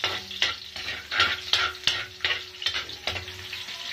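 Onion seeds (bumbay) frying in hot oil, a steady close sizzle broken by repeated scraping stir strokes about every half second, with no voices.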